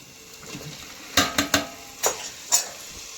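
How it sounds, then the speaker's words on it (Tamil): Chopped tomatoes go into a hot pan of biryani, bringing a soft, steady sizzle under a handful of sharp clinks and scrapes from a spoon against the pan, spaced irregularly over a few seconds. "இப்போ நம்ம இதில் தக்காளி போட்டுக்கலாம்."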